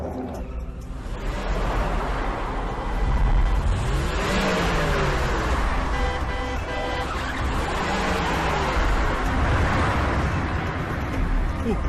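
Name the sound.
car engine revving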